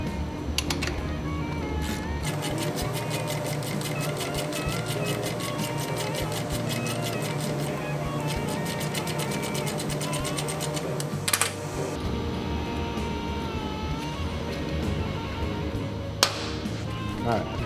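A thread tap being run into dirty bolt holes while fitting a Dyna skid plate makes a rapid, steady metallic chattering and clicking for about eleven seconds. A sharp knock follows, then quieter shop noise and a low hum.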